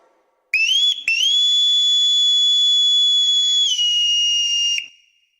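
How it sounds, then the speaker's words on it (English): A bosun's whistle piping the general call, a loud shrill high-pitched tone starting with two short chirps, then held long and steady before a downward bend and abrupt stop, played alone. "The bosun's whistle was a way to pass commands in a small environment, like on a ship"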